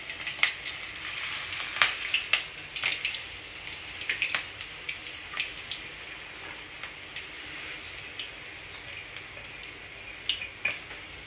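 Two green chillies and a couple of sprigs of curry leaves fry in hot oil, a steady soft sizzle dotted with sharp crackles and pops, close but fairly quiet.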